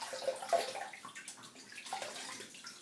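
Warm tap water runs and splashes as a freshly shaved face is rinsed at a basin, a continuous close watery gush with small splashes and drips.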